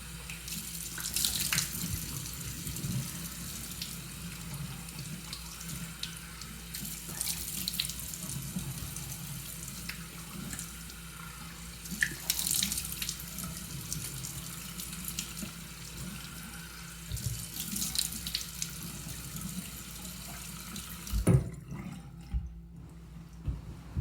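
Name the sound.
tap water running while rinsing face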